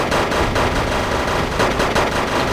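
Tunguska anti-aircraft guns in WarGame: Red Dragon hammering out continuous rapid fire, loud and dense with no pauses, covering the whole stretch.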